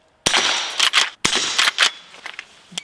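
Henry Supreme rifle fired outdoors at steel targets and into dirt: two sharp, loud gunshots about a second apart, each followed by a rattling echo and fading ring, with a faint metallic ping near the end.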